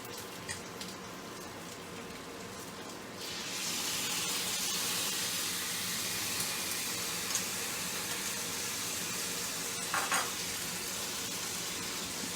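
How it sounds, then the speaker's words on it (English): Around 150 grams of whisked yogurt is added to a hot vegetable biryani base, and a quiet background sizzle swells into a loud, steady hissing fry that continues with occasional spits and no talk. "Now we will add our yogurt. I have whisked some yogurt."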